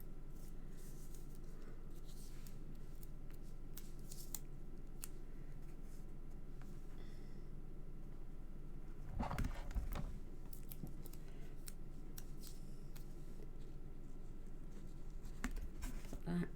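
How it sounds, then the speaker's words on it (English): Adhesive tape pulled off the roll and cut while assembling a handmade album, giving scattered short scrapes and snips with a louder tearing burst near the middle, faint under quiet room noise. "Get some more tape."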